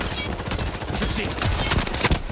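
Gunfire in the video game Highguard, a dense burst of rapid shots and crackling impacts close up, loud and continuous for a couple of seconds, with some game noise and voice mixed in.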